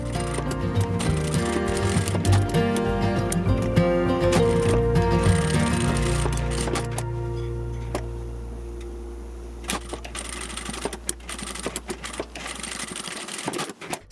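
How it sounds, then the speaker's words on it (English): A sewing machine stitching straps onto children's butterfly costume wings, running steadily and loud up close for several seconds, then stopping, with a few light clicks and handling noises afterward. "Then stitch securely across these three strap placements, sewing 5 mm inside the edge."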